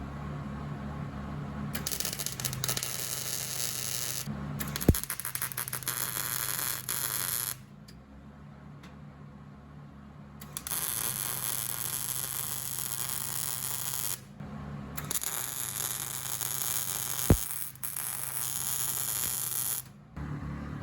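Arc welding a handle onto a homemade portable wood stove: long crackling, hissing bursts of several seconds each, separated by short pauses and a couple of sharp clicks, steady mains-like hum underneath.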